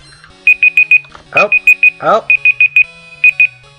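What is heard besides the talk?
alarm going off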